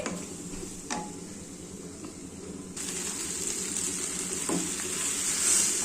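Poha mixed with tamarind sizzles and fries in a pan as it is stirred, a steady close hiss with occasional scraping knocks that grows louder partway through.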